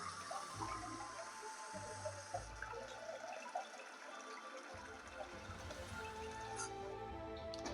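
Tap water runs into a pasta pot on a home stove, a steady rushing fill that is faint and continuous, with a few dips and small clatters, and no talk.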